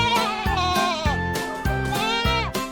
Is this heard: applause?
no